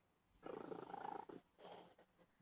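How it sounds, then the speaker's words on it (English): A cat purring loudly close to the microphone in a quiet room, with rhythmic rumbling pulses in two bursts separated by a short pause. "who's got the purring cat?"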